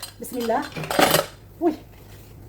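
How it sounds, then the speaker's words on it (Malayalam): A pressure cooker lid is opened in a home kitchen while mutton soup is cooked, giving a few sharp metallic clanks and rattles up close, with brief voice sounds between them. "കുക്കർ നമുക്ക് തുറക്കാം"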